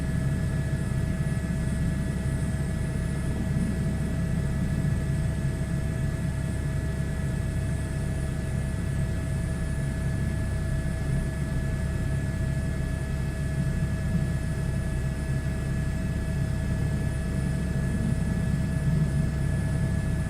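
An H125 helicopter flying in a flight simulator game: a continuous, even engine and rotor drone with a low rumble and steady high whine, constant in loudness throughout, with no talking.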